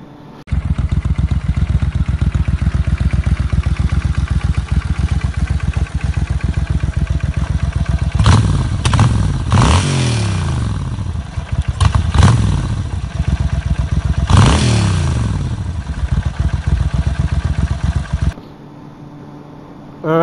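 A 700 cc motorcycle engine, close and loud, runs at a steady lumpy idle for most of the clip, then gives several sharp throttle blips in the middle, then settles back and cuts off near the end; no talk.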